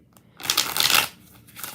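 A deck of tarot cards is shuffled in one close, brisk riffle lasting about a second, heard alone with nobody talking.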